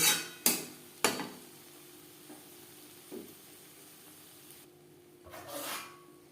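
A spoon stirs fish oil curry with spring onions in a pan, with a few sharp scraping knocks against the pan over a low sizzle, close by and with no voices.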